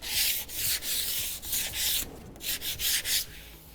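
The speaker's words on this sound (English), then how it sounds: "You just want to make sure you're holding that palm sander level with the face." A palm sander with 80-grit paper works a countertop surface, giving a close, loud, breathy rasping sound in repeated strokes separated by short pauses, with no voices.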